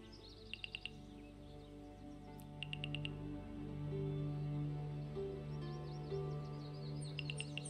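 Bird chirps and tweets form a game's ambient background, with short bursts of high calls repeating every few seconds over a steady low hum and soft music.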